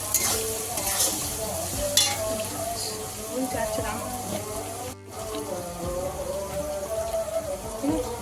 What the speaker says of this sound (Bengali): হলুদ দিয়ে একটু পেঁয়াজটা ভাজা হবে